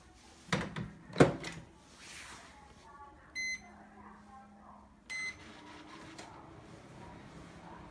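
A Galanz microwave oven with a fault that stops it heating is powered on. A couple of handling thumps come first, then two short beeps separated by a light, quiet running hum.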